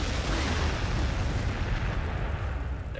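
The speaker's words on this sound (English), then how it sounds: "Oh, let's bombard." Artillery bombardment in the video game Warhammer 40,000: Sanctus Reach, heard as a dense, continuous barrage of deep booms and rumbling blasts that stays loud for the whole stretch with no pauses.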